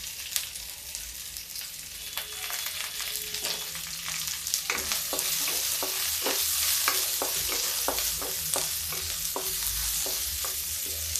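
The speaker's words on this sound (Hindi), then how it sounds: "अब डालेंगे इसमें हम प्याज और लहसुन।" Onion, garlic and ginger pieces frying in a pan for a sago and corn snack, a steady hiss of sizzling oil with repeated clicks and scrapes of stirring, close and alone.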